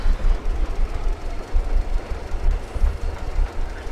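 A three-wagon train in Metro: Exodus rolls along with a loud, low rhythmic rumble and steady clickety-clack of wheels on rails.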